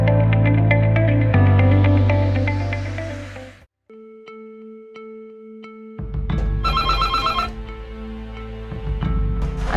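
Telephone ringtone in a hospital setting, a steady electronic ring pattern sounding alone and clearly between stretches of music-like tones, loud and close.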